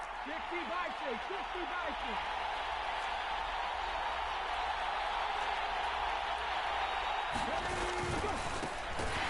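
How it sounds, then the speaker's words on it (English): Crowd noise in a PS4 football video game, a steady broad roar of stadium spectators that swells slightly near the end, under a commentator's talk. "The crowd getting into it as we come up on a big third down."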